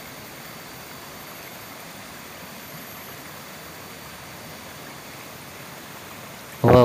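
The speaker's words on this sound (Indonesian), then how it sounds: "airnya Masya Allah mengalir tiada henti dan sangat jernih" Clear river water at Sungai Kembar in Puncak Asih, Cisadap, Ciamis flows without pause, a soft, even rushing wash that holds steady until a sudden louder thump at the very end.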